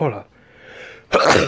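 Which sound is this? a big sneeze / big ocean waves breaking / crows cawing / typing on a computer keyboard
a big sneeze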